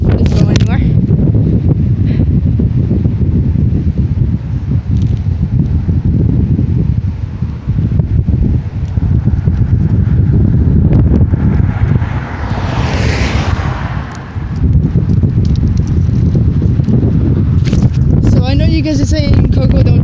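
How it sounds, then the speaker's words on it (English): Strong outdoor wind buffets the microphone in loud, continuous roaring gusts, swelling and dipping over the whole stretch, with a brief lull midway and rustling near the end. "It's very windy."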